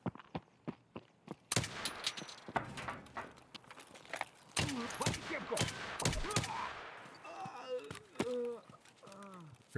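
Gunfire in the shooter Escape from Tarkov: sharp, loud shots at irregular intervals, some close together in quick bursts, mixed with scuffling movement and brief vocal sounds in the later part.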